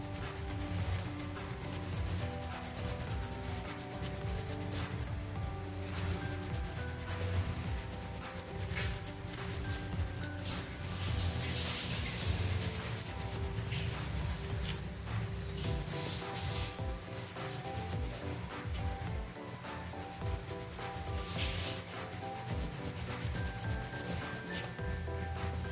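Grating an ingredient for puto bumbong by hand, a close, continuous rasping scrape in quick repeated strokes at low level, with no talking.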